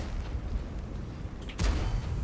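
Tank cannon fire in World of Tanks, a single loud booming shot midway through that follows a stretch of steady battle rumble, with no talk.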